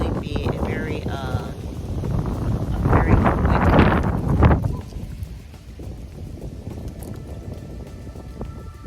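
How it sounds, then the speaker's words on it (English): Strong wind gusts outdoors buffet the microphone with loud low rumbling that swells midway and then eases, and a person can be heard talking under it. "The wind almost blew y'all away."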